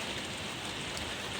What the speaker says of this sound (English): Sorry about the rain, it just decided to have a rainstorm here.